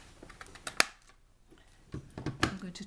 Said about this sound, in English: I'm going to trim that down with my scissors.